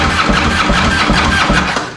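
An abandoned Harley motorcycle engine cranks on its starter, a loud close, rhythmic churning turnover that does not clearly catch, with no talking.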